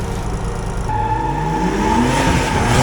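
Drift car launching from the start at a drifting championship in Bielsko-Biała, engine revving hard and climbing in pitch as the clutch slips and the tyres grip, loud and close throughout.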